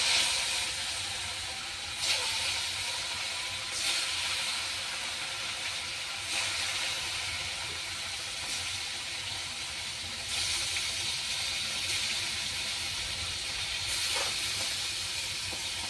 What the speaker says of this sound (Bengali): তেল গরম হয়ে গেছে কড়াইতে ভাজার জন্য ছেড়ে দেবো